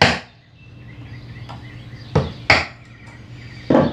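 A wood chisel bites into a spice rack joint in a few sharp, distinct strikes, each a crisp close knock followed by quiet room hum, spaced irregularly.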